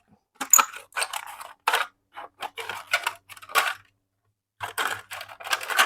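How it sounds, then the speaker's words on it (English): Scissors snipping half-inch strips from the bottom of a plastic cup, with a dozen or so crisp close-up cuts coming in uneven bursts and brief quiet gaps between them. "I'm going to cut out strips like this, every one about ½ an inch in width."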